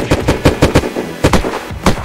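Gunfire in a shooting video game, a few loud close shots in quick uneven bursts, with no talking.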